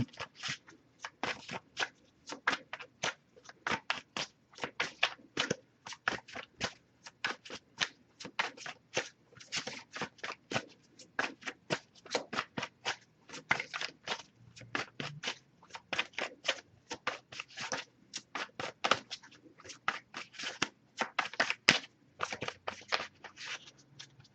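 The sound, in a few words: shuffling tarot cards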